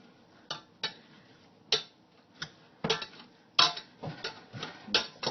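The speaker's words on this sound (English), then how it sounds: "I'm just going to mash it up just like I would potatoes." Potato masher pressing through a bowl of food, giving a run of sharp, close knocks and squishy thumps that come roughly every half second, uneven in strength, with no talking.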